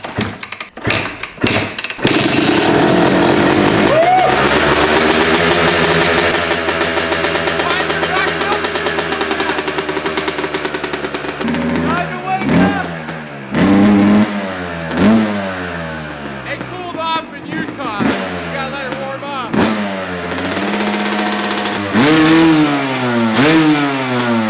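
A two-stroke dirtbike fitted with a new exhaust starts up indoors and revs hard, loud and close, with repeated rising and falling blips and crackly idle between them, while voices talk over it.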